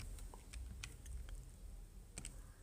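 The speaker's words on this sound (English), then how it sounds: "you just go to your calculator, you go and type in" Fingers typing on a calculator's keys while working a sine problem: a quick, soft series of light clicks and taps, close but faint over a low steady hum, with no talking.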